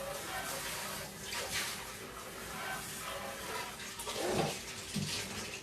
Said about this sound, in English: I'm rinsing my hands.